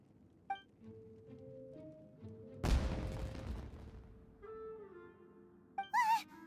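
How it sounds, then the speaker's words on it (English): Fireworks from Genshin Impact burst in one loud, crackling blast mid-scene, followed by a fading rumble, with game chimes and a bright whistling tone before and after. "Was that an explosion? It sounded like fireworks."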